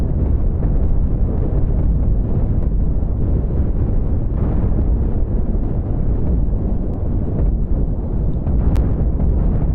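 Spaceship weapons fire striking hull armor in the space combat game Cosmoteer, heard as a steady, dense rumble of impacts and blasts running continuously throughout, loud and close with no talking over it.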